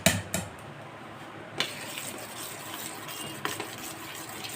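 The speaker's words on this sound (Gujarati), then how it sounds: "જો આપણું પાણી ગરમ થાય છે" Water heating in a pot while Gujarati khaman is being steamed: a steady soft hiss runs throughout, broken by a few sharp metallic clinks of cookware near the start and middle.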